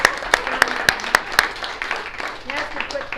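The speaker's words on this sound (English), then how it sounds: "Give her a big round of applause" Audience applause in a Los Angeles talk venue, a burst of sharp claps repeating in a steady rhythm before fading into a softer spread of clapping and murmur, with voices over it.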